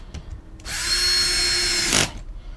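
A power drill drives a screw into a homemade wooden bench top, a single whirring burst of about one and a half seconds that ends abruptly, with faint knocks before it.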